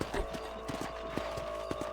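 Horse hooves clip-clop steadily in Red Dead Redemption on PC, a soft, even rhythm of light footfalls over a low game ambience, with no talk.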